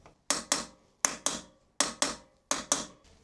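Steering stem bearing being tapped into place on a Kawasaki Versys 1000 SE: four pairs of sharp, close metallic hammer taps in an even rhythm, each quickly decaying, with quiet gaps between.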